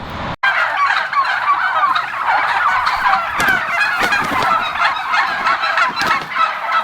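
Several turkeys at a farm shop gobble loudly and repeatedly, their rapid warbling calls overlapping close by with no talking.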